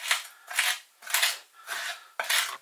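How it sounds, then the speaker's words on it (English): A knife blade scraping back and forth across chopped garlic and salt on a board for pork and beef kofte kebabs, five distinct gritty strokes in a steady rhythm, close and fairly loud, with no talk. "mash that up using the salt by just drawing the blade"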